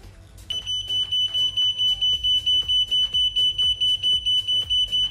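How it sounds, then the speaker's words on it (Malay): Steady series of shrill electronic beeps from a non-contact voltage tester, evenly pulsed about three per second, loud and close, with no talking. "bila dia detect voltage, dia akan mengeluarkan isyarat ataupun bunyi beep"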